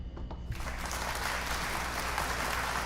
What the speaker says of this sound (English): Let's give myself an applause.